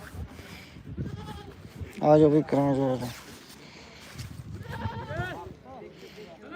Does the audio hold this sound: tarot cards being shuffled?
no